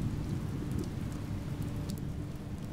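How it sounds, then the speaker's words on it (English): Steady, even rainfall in the video game Oxenfree hisses continuously with a low rumble underneath, a soft downpour without any voices. "it just suddenly started raining"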